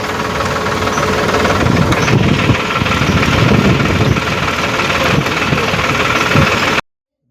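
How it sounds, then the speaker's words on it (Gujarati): A GPS-guided tractor runs driverless while spreading fertilizer in a field, its engine chugging steadily and loudly up close with a rough, knocking rumble and no talk, until it cuts off abruptly at the end. "જીપીએસ વાળું ટ્રેક્ટર છે. એકલું હાલે છે ટ્રેક્ટર."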